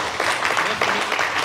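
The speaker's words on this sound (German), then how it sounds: "Dich begrüßen wir mit einem herzlichen Applaus auf der Hackathon-Bühne" Brief warm applause greets a speaker on a hackathon stage, a short burst of many hands clapping at moderate loudness.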